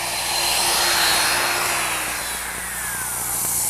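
A hand-held router cuts a dado across a board guided along a fence, a steady, loud high-pitched motor whine with broadband cutting noise that swells and eases slightly over a few seconds.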